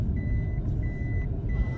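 A 1997 Toyota RAV4 gives repeated steady electronic beeps as its vacuum-operated differential lock disengages, three evenly spaced tones over a low engine rumble.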